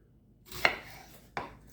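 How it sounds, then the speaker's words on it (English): Knife chopping an onion on a cutting board: two sharp, close chops about 0.7 seconds apart, each a crisp percussive strike against a quiet background. "This is going to hold your onion together while you're chopping it."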